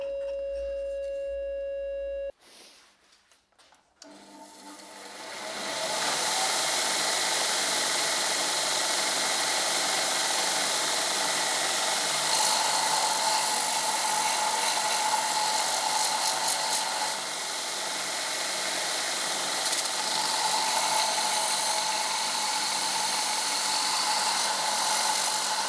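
A forged xylophone bar being ground, a loud continuous broadband grinding roar that starts after a brief tonal beep and a short pause, then holds steady at close range for about twenty seconds.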